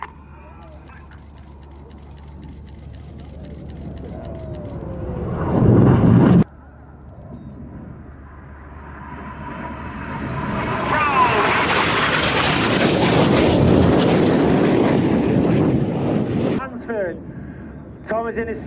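Display team jets fly at the Cosford Airshow, turning hard towards each other in the Cyclone manoeuvre; a brief loud blast is followed by a broad jet roar that swells and holds near, with a commentator's voice over it.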